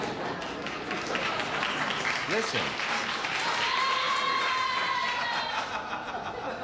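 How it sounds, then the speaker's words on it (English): A television studio audience on a 1969 talk show claps and chuckles steadily for a stagehand's joke, a continuous mid-level wash of applause. A voice speaks briefly partway through. "Gee, the stagehand gets applause, I get nothing."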